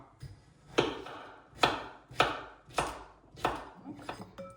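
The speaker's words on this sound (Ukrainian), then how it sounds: "Нарізаю маленькими кільцями." A knife slices through cucumber into small rings on a cutting board, six evenly spaced chops in a steady rhythm, close and clear.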